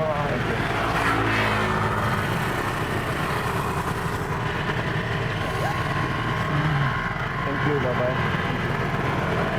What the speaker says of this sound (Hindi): मेरी जो है वो बाइक स्टार्ट हो गई